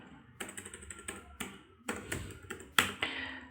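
Username keyed in on a computer keyboard, a run of close, crisp key taps in uneven bursts with short pauses between them.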